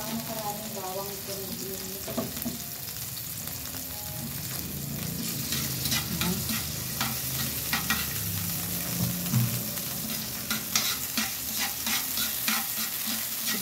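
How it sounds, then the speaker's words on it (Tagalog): Pork and a little garlic sauté in a pan, giving a continuous close sizzle with frequent stirring scrapes and clinks, plus some faint background noise and no clear talk. "Gisahin lang natin ang ano, karne. Kaunting bawang lang."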